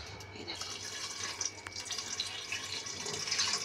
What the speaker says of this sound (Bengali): এবার দিয়ে দেবো একটু সামান্য একটু গরম জল।